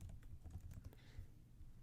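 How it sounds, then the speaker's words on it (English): Soft, rapid keystrokes on a computer keyboard as a password is typed at a terminal login, quiet, close clicks with no talking. "then you just type in your career password"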